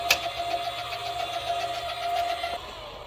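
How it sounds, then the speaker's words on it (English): An Apex camper being lowered down gives a steady mechanical whir with a faint tonal hum. The motor-like drone runs close and even for about two and a half seconds, then cuts off, and no one talks over it. "now you can push, lower the camper down"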